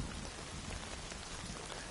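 Heavy rain pours steadily in The Last of Us Part II, a dense, loud, continuous hiss of drops hitting surfaces with no voices.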